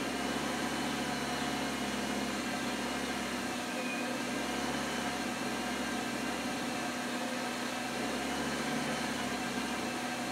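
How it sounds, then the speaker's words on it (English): A car engine idles smoothly around 1100 RPM as a steady, even hum under a constant broadband hiss, with no voices. "It's idling super smooth. Right at 1100 RPMs."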